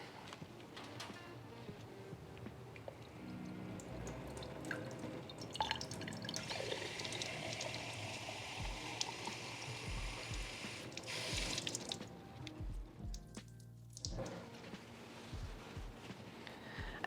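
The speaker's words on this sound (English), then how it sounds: "And I just have to fill it up to the top with water." Water trickling and dripping into a container holding plant cuttings as it is filled to the top, a steady close pour with small splashes and drips throughout.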